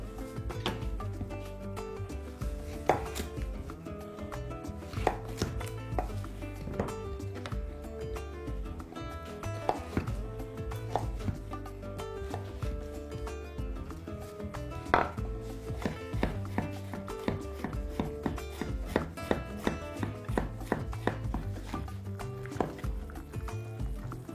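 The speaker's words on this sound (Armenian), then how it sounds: "Կտրատում եք նույն տրամաբանությամբ։" A knife chops zucchini on a cutting board in a steady series of crisp, close taps, with brief pauses between runs of cuts.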